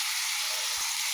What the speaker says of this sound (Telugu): ఇప్పుడు మనం చిక్కుడుకాయలు వేసుకున్నాం కదండి, చక్కగా ఇలా బాగా ఒక 5 నిమిషాలు చక్కగా ఫ్రై చేసుకోండి